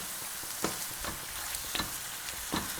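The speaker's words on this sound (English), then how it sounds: "Saute this, bask in the smokiness that it gives, and immediately take 6 tomatoes that you have blanched and put them in." Blanched tomatoes sautéing in a pan for chicken paprikash, a quiet steady sizzle with several soft stirring clicks spaced about half a second apart.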